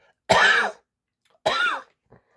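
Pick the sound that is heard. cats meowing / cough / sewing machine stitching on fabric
cough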